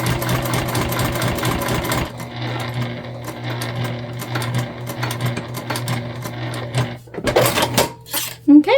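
Sewing machine stitching a bag handle up close, a steady loud mechanical hum with rapid needle ticks, pausing briefly then resuming, ending in a few clunks and clicks.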